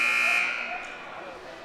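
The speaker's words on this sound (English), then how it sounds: "Buzzer sounds." A loud, sustained electronic buzzer blares at a high school boys' basketball game, then fades out over a second or so amid crowd noise.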